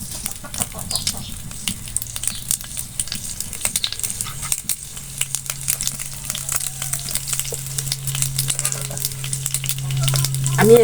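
Chapa shutki bharta, a dried fish mash with leaves, frying in a pan: a dense, continuous crackling sizzle with a low steady hum beneath, close and fairly loud, rising slightly toward the end, no talk.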